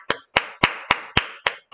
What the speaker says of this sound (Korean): 오늘도 박수